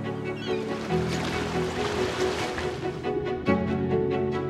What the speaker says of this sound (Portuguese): Este é o Mar dos Açores.